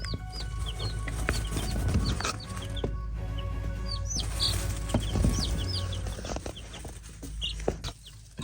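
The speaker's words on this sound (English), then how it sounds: "So this little bantam chicken here is blind" A small blind bantam hen clucks softly amid a busy farm setting, with chirping birds and other fowl calling around her in a steady background.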